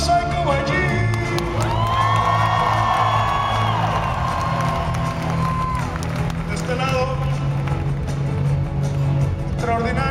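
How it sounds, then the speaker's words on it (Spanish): Concert crowd at a show in Chicago cheers, whoops and claps loudly and continuously, with shouted voices rising over the din and band instruments humming underneath. "Un fuertísimo aplauso."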